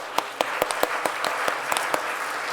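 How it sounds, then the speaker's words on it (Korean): A small church congregation claps briefly during a service, scattered hand claps close by in an irregular patter for a couple of seconds. "우리 박수 한번 칠까요?"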